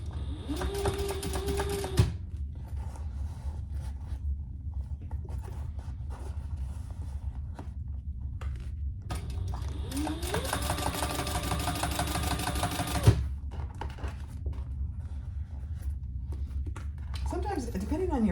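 A sewing machine top stitches the exterior of a foldover crossbody bag, running in two steady buzzing bursts separated by quieter pauses, with faint background sounds.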